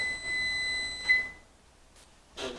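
A kitchen oven timer sounds a steady high electronic beep that holds for about a second and a half, then stops, followed by a faint clatter.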